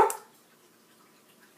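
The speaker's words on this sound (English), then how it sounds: "She's barking." A pet dog named Paisley gives a single short bark at the very start, fairly faint and nearby indoors, followed by quiet room tone.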